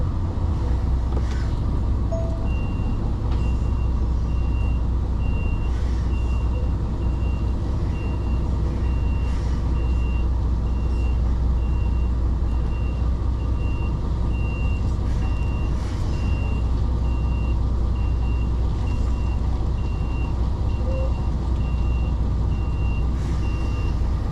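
A lorry with a trailer manoeuvring and swinging round to the right on a rural Spanish road, its reversing alarm beeping steadily and repeatedly over a loud, constant diesel engine rumble, with no voices.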